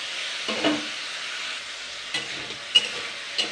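Potatoes stir-fried in a pan give a steady close sizzle, broken by a few scraping stirs and one sharp clink of utensil on metal.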